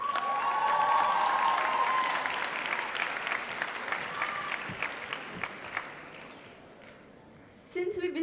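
A graduation ceremony audience claps and cheers in a loud burst that gradually fades and thins, leaving scattered claps and a few voices near the end.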